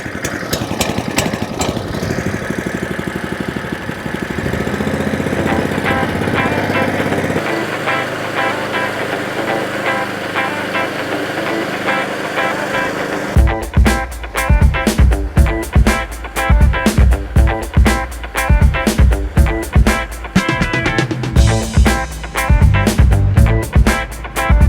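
Allett Kensington 17H petrol lawn mower starting with one pull on choke, then running steadily nearby; the engine note shifts partway through into a harder, pulsing chug, with no talk over it.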